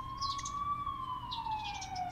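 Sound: ambulance siren in the video game The Coma: Recut

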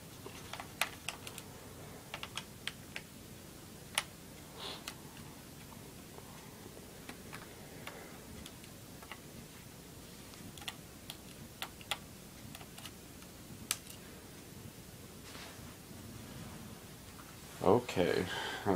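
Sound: removing screws from an Acer laptop

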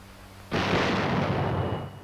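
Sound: 105 mm cannon shot in video game

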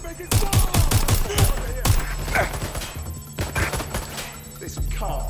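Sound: gunfire hitting the player, from the video game Watch Dogs Legion

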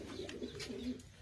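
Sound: pigeons cooing in a loft

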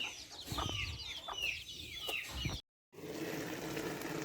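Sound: rooster and chickens clucking

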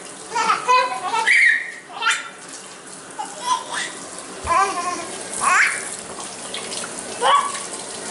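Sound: child playing with water in a sink

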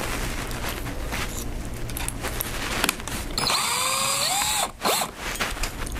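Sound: power drill drilling pilot holes in oak wood

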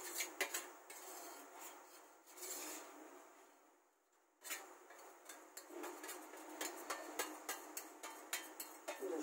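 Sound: spreading ghee on a plate for burfi

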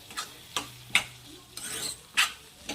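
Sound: stirring tinda and lentil curry in a pan

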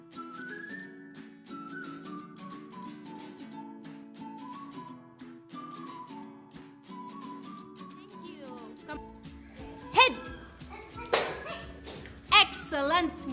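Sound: class clapping for a student

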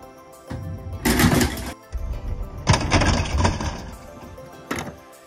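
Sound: LEGO pinsetter machine running after a bowl

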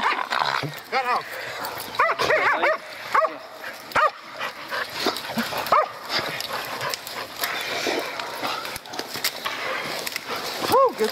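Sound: hunting dogs barking and whimpering during hog hunt

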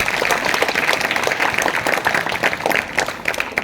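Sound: applause

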